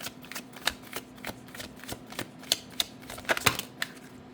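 Tarot cards being shuffled and drawn at close range: a rapid, irregular run of crisp riffling flicks and taps, fairly quiet and continuous, with no speech.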